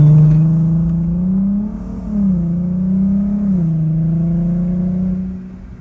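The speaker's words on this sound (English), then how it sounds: "Acceleration going on." A car accelerating with a strong, steady engine drone that rises and shifts pitch as the transmission moves through gears, loud and close throughout.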